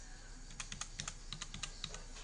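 Rapid keystrokes on a computer keyboard enter a phone number at a dry-cleaning point-of-sale counter, a quick string of light, close clicks with no talking.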